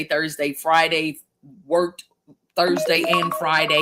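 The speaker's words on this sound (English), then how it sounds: "that's my phone telling me the show is over" A mobile phone alert chimes in a sustained tonal ring near the end, sounding under a man's ongoing speech.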